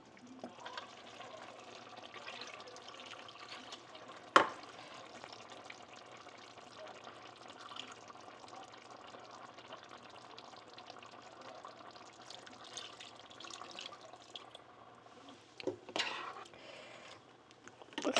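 Water poured into a pot of Chettinadu chicken curry on the stove, a low steady pour and simmer running the whole time, with a sharp clatter early on and louder splashing and stirring near the end.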